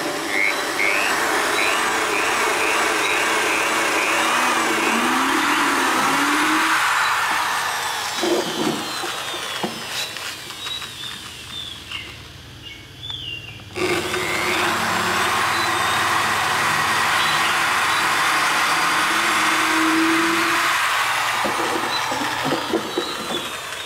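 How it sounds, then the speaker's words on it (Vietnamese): Power drill boring pin holes into the legs of a wooden bird cage frame: a loud, steady whining motor that runs in long stretches, dips and drops out briefly in the middle, then spins up again and keeps going. "Đầu tiên chúng ta khoan chốt hoa vào chân. Đó, chúng ta sẽ khoan chéo vào chân."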